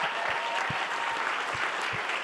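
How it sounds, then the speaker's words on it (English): A room full of people gives a sustained round of applause for the docuseries contributors, who stand as they are honoured. The clapping is dense, even and steady throughout, a broad wash of many hands with no voices rising above it. "Could we actually ask all of our contributors to stand for a round of applause?"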